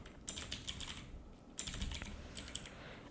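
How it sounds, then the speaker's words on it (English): Someone types a short name on a computer keyboard, two quick bursts of light clicking keystrokes close by, separated by a short pause. "So I'm typing my guest account name"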